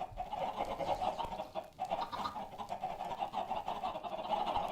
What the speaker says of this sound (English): now that I have a chicken farm down here, I can decommission the chicken machine up here